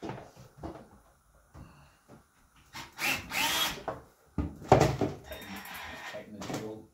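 A handheld drill bores holes in a plastic container, starting with short slow bursts and then running louder at higher speed in longer whirring stretches.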